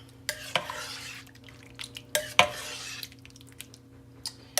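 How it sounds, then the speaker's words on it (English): Spoon stirring a thin, creamy liquid mixture in a pot on the stove, with a few sharp scrapes and clinks against the pot's side standing out over soft continuous swirling and a faint background hum. "So let me stir that."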